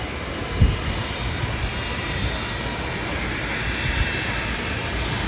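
A WestJet airliner from Toronto approaches for landing at Maho Beach, its jet engines a steady, broad roar that holds throughout, with a brief thump near the start.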